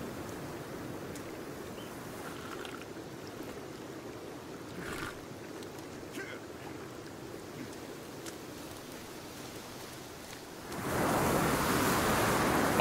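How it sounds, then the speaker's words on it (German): Loud wind roars steadily through an outdoor scene in the video game Sons of the Forest, a broad rushing noise that swells even stronger near the end, with no voices over it. "der Wind ist vielleicht laut"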